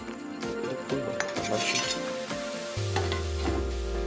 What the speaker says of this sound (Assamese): ভাতখিনি লৰাই দিচোন দেই